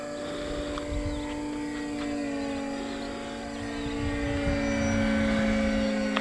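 An E-Flite Beechcraft D18 twin-motor RC plane, 1.5 m span, flies with a steady, sustained electric motor and propeller drone that layers into two slightly offset tones and swells louder toward the end, with no talk.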